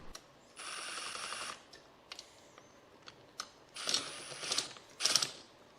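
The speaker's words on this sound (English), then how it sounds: "Right now I'm just using an impact driver to save time" An impact driver runs valve cover bolts on a Honda TRX500FA Foreman Rubicon ATV engine during a top-end rebuild, with one longer rattling burst, then short hammering bursts and clicks, close up.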